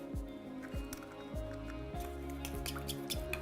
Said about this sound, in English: Now, we're gonna break the egg, mix it together with the oils,